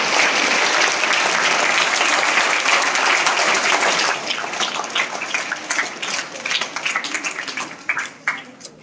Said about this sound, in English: Please clap for blue house.